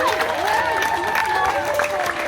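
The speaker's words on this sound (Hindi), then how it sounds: "और ये यहाँ पे पेरेंट्स ताली बजा रहे हैं।" Parents applauding at a school's last-day event, steady crowd clapping throughout, with talk and a chattering voice over the top.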